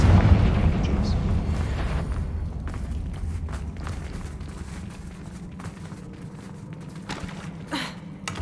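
In Hogwarts Legacy, a Confringo fire spell bursts with a loud, deep booming blast that rumbles and fades over several seconds, followed by scattered thumps and crackles, with game voices briefly heard.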